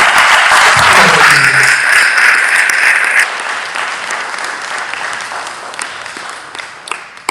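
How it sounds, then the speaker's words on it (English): Audience applause at an NAACP political action candidate forum in East St. Louis: loud, dense clapping from a crowd at first, then thinning into scattered claps that fade over several seconds. "let's give them a round of applause"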